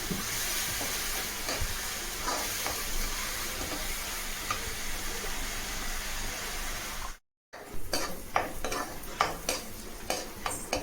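Onion paste fries in a pan for boti fry, giving a steady sizzle under stirring; after a brief silent break, the stirring returns as sharper scraping clicks of a spoon against the pan.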